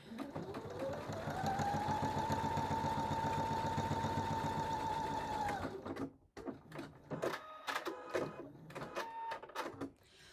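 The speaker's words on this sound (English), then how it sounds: "I'm going to go ahead and just sew a little line of quilting on the edge of this seam right here." A sewing machine stitches a quilting line along a fabric seam, running as a steady, loud mechanical whir for about six seconds, then stopping into a few sparse clicks and handling taps.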